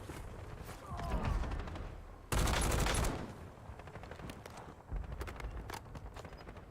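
Video game gunfire cracks out in scattered shots and short bursts, with one loud, dense volley in the middle. Quieter pops follow, with faint in-game voice callouts underneath.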